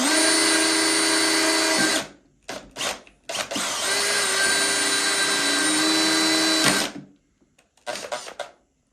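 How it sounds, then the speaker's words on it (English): A drill bores a 4mm pilot hole into a uPVC window frame, a loud steady whine that runs for about two seconds, stops in short bursts, holds for roughly three more seconds, then ends with a few brief spurts. "So what we'll do is we'll drill the pilot hole now."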